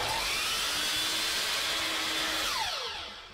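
A Lumberjack 12-inch double bevel mitre saw making a 45-degree cut: a loud, steady high motor whine that holds for nearly three seconds, then drops in pitch as the blade spins down.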